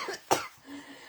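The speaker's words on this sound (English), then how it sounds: "I'm coughing because I'm laughing." One sharp cough sounds close and fairly quiet, set off by laughing, between soft breaths.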